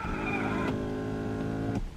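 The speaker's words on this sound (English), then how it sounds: "Seat moves, steering wheel moves to your position." Power seat and steering wheel of a 1991 right-hand-drive Mitsubishi Diamante motor into position, a steady mechanical whir holding for nearly two seconds with a brief shift partway through before stopping.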